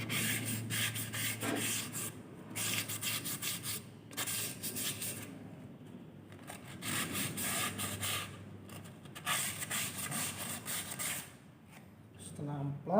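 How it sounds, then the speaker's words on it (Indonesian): Sandpaper rubbing over a brake drum during brake servicing, a steady abrasive scraping in repeated back-and-forth strokes with short pauses, close and fairly loud. "Tromol ini dengan menggunakan kampas, kita amplas dulu."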